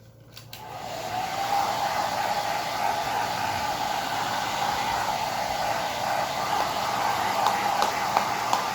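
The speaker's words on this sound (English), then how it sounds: "I will dry these once again with a hair dryer to ensure that these are" A hair dryer switches on after a brief quiet moment and blows steadily over chocolate molds, a loud sustained airy roar with a motor whine that holds to the end.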